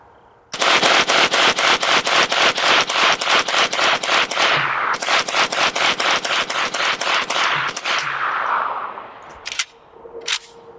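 Long strings of automatic fire from a Century Arms AK63D AK-47 variant during a continuous-fire torture test, rapid evenly spaced shots in two loud bursts separated by a short pause, ending with a few isolated clanks.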